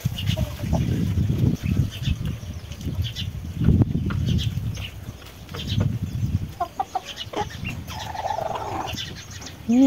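Chickens and other farm birds calling and clucking after feeding in the Philippine countryside, with a few higher bird calls near the end over steady background noise.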